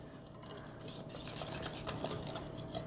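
Choco flan custard batter being mixed in a bowl, a steady scraping and clinking of utensil against the bowl running continuously at moderate level with no talk.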